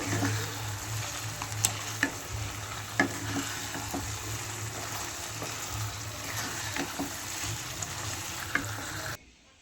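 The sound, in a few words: stirring chicken frying in garlic gravy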